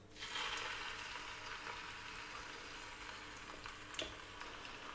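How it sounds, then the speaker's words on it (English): Beef short ribs dropped into heated oil for browning, with a sudden burst of frying sizzle that settles into a steady, fairly quiet crackling hiss and a small pop near the end. "so that oil is heating just nicely. We're going to drop in the short ribs."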